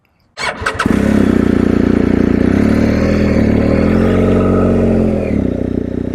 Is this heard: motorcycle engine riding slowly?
yes